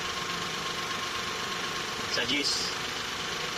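A Suzuki F6A engine idles after a timing belt replacement, giving a steady close mechanical hum with a slight knock, while someone briefly speaks over it.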